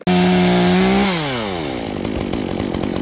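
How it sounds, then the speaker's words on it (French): A chainsaw cuts a tree overhanging a road, revving high at first and then settling into a loud, steady buzzing cut close by. "il me faudrait une troisième main pour tenir la tronçonneuse"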